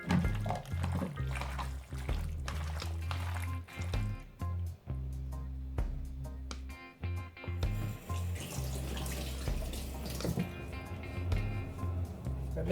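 A tap runs in a kitchen sink while hands are washed during cooking, an uneven splashing and gushing that starts and stops repeatedly, fairly close, under occasional talk.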